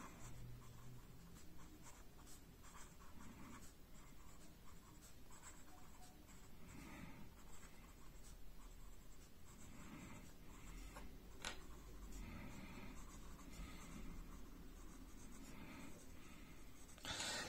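Fountain pen fitted with a Schneider ink cartridge and a medium nib writing on a school notebook, giving a continuous soft scratching of nib on paper with small ticks, close and steady throughout, with no talking.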